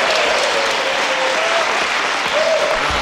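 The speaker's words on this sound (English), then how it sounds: "Let's hear it for our contestants." An audience applauds contestants at a dancing show, with dense, steady clapping that runs unbroken and fairly loud from start to finish.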